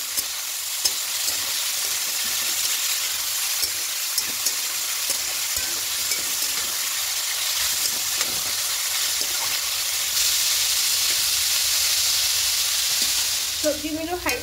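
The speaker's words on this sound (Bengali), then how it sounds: "এবার এখানে আপনি জল দিয়ে দিয়েছেন, এবার এটা একটু হালকা একটু ভেজে নেব" Vegetables for pasta fry lightly in a pan with a little added water, making a loud continuous sizzle and hiss with stirring scrapes, steady throughout and without talk.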